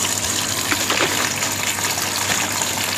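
Water gushes and splashes steadily, close by, as it is poured to soak an Aglaonema plant pot, about five to seven liters.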